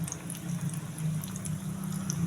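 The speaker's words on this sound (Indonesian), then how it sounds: "Sekarang saya goreng yang isiannya sosis ya teman-teman. Goreng sampai matang." Sausage-filled dough snacks frying in hot oil, a steady close sizzle and bubbling that runs without a break and stays loud throughout.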